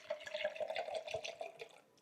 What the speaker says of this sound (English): So the first thing I'm gonna do is fix me a glass of wine.